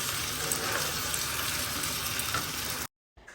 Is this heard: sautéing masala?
yes